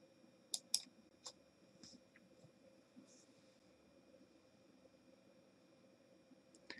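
A computer mouse clicks twice in quick succession to upload Arduino code, followed by a few softer scattered clicks, all faint in a quiet room.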